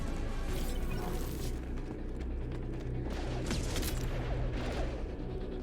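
Mass Effect 2 combat gunfire rattles in dense bursts under a busy low rumble of battle noise, with brief sharper cracks scattered throughout at moderate loudness.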